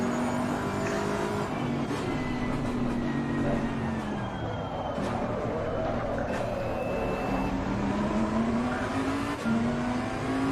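Audi race cars roar through a lap in the racing game Assetto Corsa Competizione, engines droning steadily with rising and falling revs, other cars close by, no talk.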